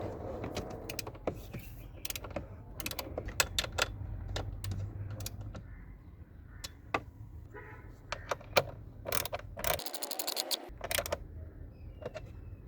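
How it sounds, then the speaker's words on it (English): Metallic clicks and ratcheting taps come from a 10mm socket wrench tightening nuts and a bolt on a Kia Sportage interior fuse box, irregular and close, with soft background noise. "use a 10mm socket wrench to tighten the nuts and bolt"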